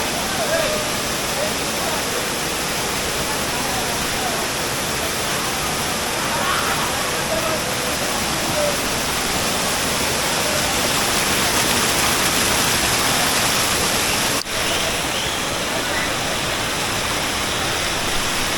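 A waterfall at Navale village in Sindhudurg pours steadily in a loud, unbroken broadband roar that holds close and constant throughout, with voices faintly audible beneath the rushing water.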